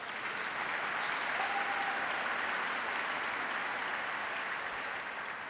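A large audience at a Congressional Gold Medal ceremony for the all-Black, all-woman WWII Six Triple Eight battalion gives sustained, even applause. The clapping sounds distant and holds steady in level from start to finish.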